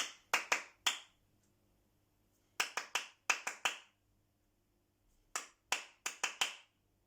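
Hand claps in short rhythmic bursts: three claps, a pause, then groups of four and five sharp claps, crisp and close with silence between phrases, part of a clap-back rhythm exercise in a music lesson on rhythm and tempo.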